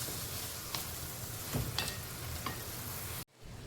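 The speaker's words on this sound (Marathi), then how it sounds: "जे काप बनवलेले होते मुगाच्या डाळीचे ते आपण टाकूया गिरवीमध्ये. मिक्स करून घेऊया." Mung dal slices stirred into a simmering gravy for a Konkani-style dish, a steady bubbling hiss with a few soft scrapes and clinks of the spoon, close and fairly quiet, cutting off sharply near the end.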